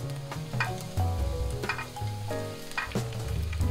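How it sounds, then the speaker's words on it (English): Garlic frying in olive oil in a pan, a lively close sizzle with crackling pops and occasional stirring scrapes, steady throughout with no voices. "First, fry the garlic in olive oil for 2 or 3 minutes or until golden brown."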